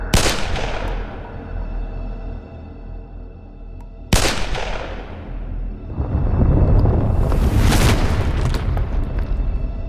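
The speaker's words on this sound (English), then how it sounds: "Robert steadies his revolver and pulls the trigger" Revolver gunshots in a dramatized ghost story: two loud, sharp booms a few seconds apart, each ringing out into a long decaying tail, followed by a rumbling swell of low noise.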